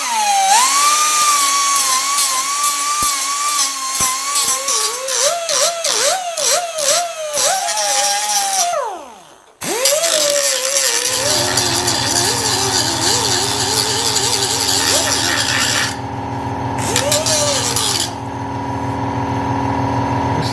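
Pneumatic tool scraping inside the trunk well of a Mercedes W108/W109, a whining, feathered burst that rises and falls in pitch, then a pause and a steadier lower whir with a constant hum beneath.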